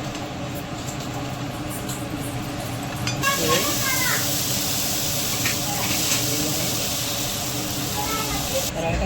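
A moong dal paratha cooks in an oiled hot pan, giving a steady sizzling hiss that grows louder and brighter after a few seconds and holds to the end, with a voice briefly audible beneath.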